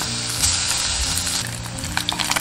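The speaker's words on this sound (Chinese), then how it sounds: "砂锅下入五花肉，煸出油脂。" Pork belly renders its fat in a clay pot, giving a loud, close, continuous sizzle. Sharper crackles and pops pick up toward the end.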